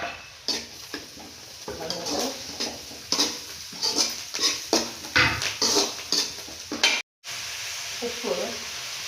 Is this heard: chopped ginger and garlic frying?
yes